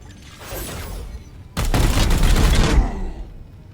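Gunfire from the video game Chaos Gate: Daemonhunters: a quieter stretch of mechanical rattling gives way to a loud, dense volley of shots that lasts over a second, then fades out.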